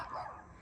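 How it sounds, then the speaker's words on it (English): Dogs barking around a neighbourhood of houses with backyards, heard as a brief, faint, distant bark. "You can hear the dogs barking."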